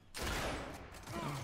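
Rapid bursts of gunfire during a ranked Control match of the video game Gears 5, loud and continuous across the short clip with a brief mechanical clatter near the end.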